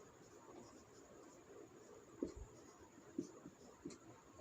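Someone writes on a board, the faint scratch of strokes forming letters. A few slightly louder taps and scrapes stand out over a quiet room hum.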